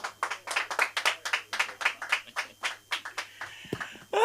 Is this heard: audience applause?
yes